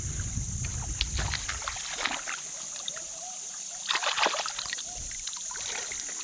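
A stone arrowhead point with a nicked base corner is rinsed off in water outdoors, giving soft intermittent splashes and sloshing trickles that come and go against a steady high hiss.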